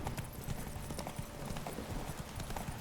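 Geralt's horse Roach gallops in The Witcher 3, a quick rhythmic clip-clop of hooves close by over ambient game sound, with a faint whinny.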